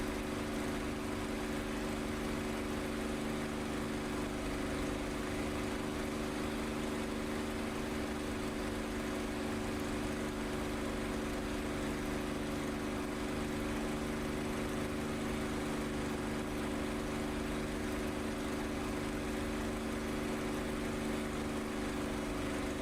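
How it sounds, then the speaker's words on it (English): A steady, droning aircraft engine in the DCS flight simulator game runs unbroken for over twenty seconds, with constant tonal hum and no variation in level. "the engine of this does not sound particularly realistic"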